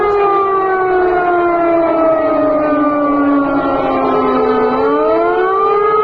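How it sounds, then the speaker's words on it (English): A wailing civil defense air raid siren in Lublin, Poland, sounds continuously, its tone slowly falling and then rising again, loud and sustained. "you heard those sirens sounding in Lublin, Poland, due to a potential Russian military threat"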